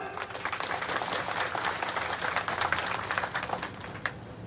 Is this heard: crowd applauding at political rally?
yes